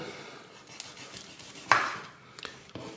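A knife cuts through dry-aged smoked sausage: a few soft, quiet knocks and one sharper, scraping cut near the middle, heard close with no talk.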